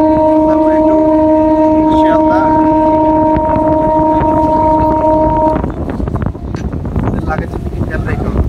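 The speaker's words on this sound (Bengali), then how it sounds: "সব জায়গায় ট্রেনের স্পিড মোটামুটি বাড়ছে" A local train runs through rural countryside from Bongaon station toward Sealdah, picking up speed. A steady rumbling roll carries a sustained droning hum for several seconds, then gives way to looser clattering rattle and wind buffeting.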